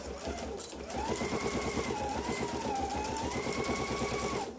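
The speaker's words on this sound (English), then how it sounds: "so we are going to just keep sewing" A sewing machine runs steadily, stitching a duffle bag seam, its rapid needle rhythm holding loud and close for several seconds with a slight pause near the start.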